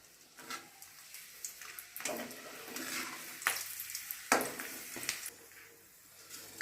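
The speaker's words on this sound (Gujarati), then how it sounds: "જો લસણ તળાઈ ગયું છે એટલે હવે નીકાળી લઈશું એને." Garlic fries in hot oil in a home kitchen while a utensil stirs, giving soft sizzling with intermittent scrapes and clinks against the pan, fairly quiet and close.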